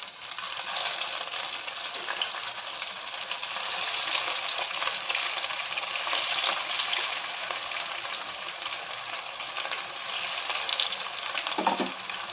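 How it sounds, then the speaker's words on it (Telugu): Chicken vadas deep-frying in hot oil give a steady, dense sizzle that holds evenly throughout, close up and alone, with one faint knock near the end. "ఫ్రై చేసుకుందాం."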